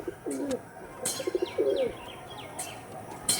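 Soft, low pigeon coos repeat in short rolling phrases, mixed with a few higher chirps and faint clicks against a steady background hiss.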